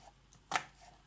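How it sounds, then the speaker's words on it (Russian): One crisp knife stroke slices through an onion on a board, a single close, sharp chop in an otherwise quiet kitchen. "Берем одну побольше луковицу, режем ее, как обычно"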